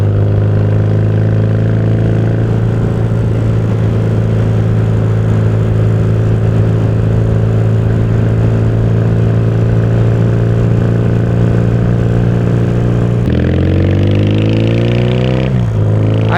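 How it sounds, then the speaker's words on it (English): A 1977 Yamaha XS650 motorcycle with a new exhaust runs loud and close, a steady throbbing idle that near the end rises into a quick rev and drops back. "650 Yamaha."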